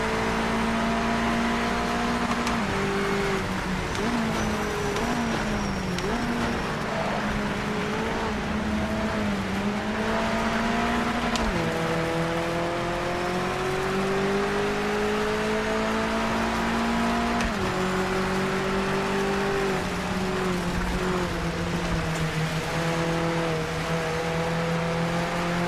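A damaged car's engine drones in a racing video game, a continuous buzzing whine whose pitch climbs and drops as the revs change through gears, steady and loud with no voices.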